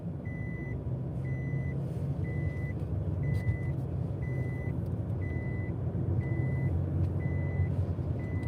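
Repetitive electronic beeping, like a reversing alarm, sounding about once per second in an even rhythm over a low, constant vehicle rumble.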